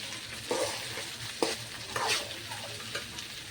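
Potatoes, beans and onion fry in a pan with salt and spice powder, giving a steady close sizzle broken by a few scraping stirs of a spatula.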